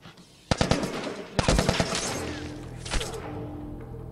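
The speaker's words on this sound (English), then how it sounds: "He dropped one of those machine gun things." Bursts of machine gun fire in The Last of Us: a short rapid volley, then a longer rattling burst with sharp close shots, followed by a lone shot and a fading low rumble.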